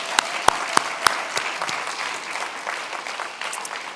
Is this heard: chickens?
no